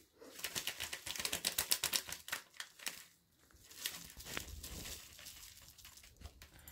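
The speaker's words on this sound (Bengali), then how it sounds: "এটা প্রথমে একটা বাটিতে মধ্যে আমি ঢালবো। তো ঢেলে নিই।" Dry kochuri mix pours from a cut packet into a bowl, a busy rustling, crinkling patter with a short pause partway through, close and fairly quiet, with no talking.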